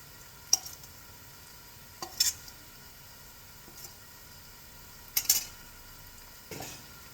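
Eggs and parmesan cheese being mixed in a bowl, a few sparse, distinct clinks and scrapes of a utensil against the bowl spaced a second or more apart over a quiet background.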